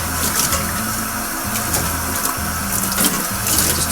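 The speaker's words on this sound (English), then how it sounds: "Run some cold water down the side with your old green utility hose." Cold water pours steadily from an old green utility hose down the side of a beer keg, a continuous close splashing and trickling flow with no talking.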